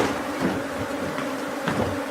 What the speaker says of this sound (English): We have a lot of guard bees here.